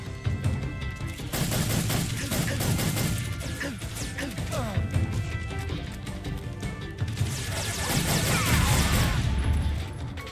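Sustained enemy gunfire in Metal Gear Solid 3: Snake Eater, dense overlapping bursts and impacts rattling continuously for ten seconds, loud and chaotic with crashes mixed in.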